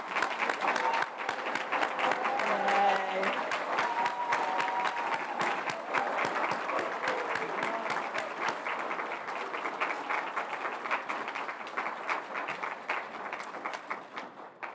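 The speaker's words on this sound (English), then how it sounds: "let's give them all another round of applause" An audience at a Law Day recognition ceremony applauds steadily for the full stretch, dense clapping that fades slightly toward the end, with a brief cheer near the start.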